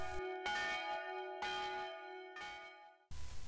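Two bells hang in a wooden bell tower beside a wooden church in Slovakia. They ring in slow, even strokes, each bright metallic clang sustaining into a humming decay before the next strike.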